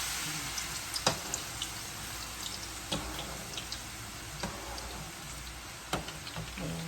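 Chopped garlic fries in hot oil for crispy fried garlic, giving a steady, fairly quiet sizzling hiss with scattered sharp crackles and pops throughout.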